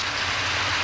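Rain in a cartoon pours down as a dense, steady hiss with a faint low rumble beneath, loud and continuous throughout the brief moment.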